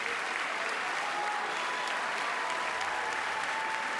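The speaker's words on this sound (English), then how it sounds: "Kathy Bates applauds in the audience." Steady applause from the audience at the 82nd Golden Globe Awards ceremony, with Kathy Bates among those clapping, a dense continuous wash of hand claps filling the hall at an even level throughout.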